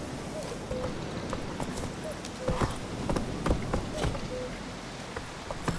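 Roach the horse's hooves clip-clopping at a steady walking rhythm in The Witcher 3: Wild Hunt, with a rider's voice speaking over the hoofbeats and a faint insect-like hum behind.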